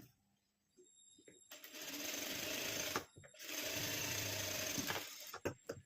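A sewing machine stitches a blouse in two rapid, loud runs separated by a short pause, with softer clicks and handling noises before and after.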